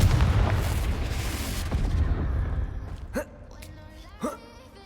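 A Confringo blasting spell in Hogwarts Legacy goes off with a loud rumbling boom that fades over two seconds, followed by two sharp, brief impacts further on.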